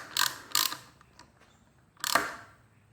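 Wrench tightening the lever mount on a 2017 Kawasaki Z125 Pro, three short sharp ratcheting clicks, two close together and one after a pause, near and crisp.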